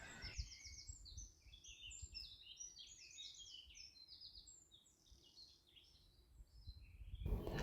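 Small birds sing outdoors in a steady stream of high chirps and warbled phrases, faint and somewhat distant over a low background murmur, ending with a short louder thump.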